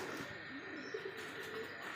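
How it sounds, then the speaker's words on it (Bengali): Domestic pigeons kept at a home coo softly during feeding, low murmuring calls repeating faintly against a steady background hiss, with no talk over them. "কবুতরকে খাবার দিচ্ছি।"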